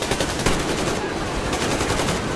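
Rapid automatic gunfire from Metro Exodus, a loud continuous burst of shots with the rhythm holding steady across the short stretch and no talking.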